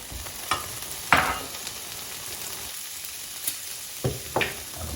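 Prunes and pickled onions cooking in a pan for a smoked turkey casserole, a soft steady sizzle punctuated by a few stirring scrapes and taps, close and fairly quiet with no talk.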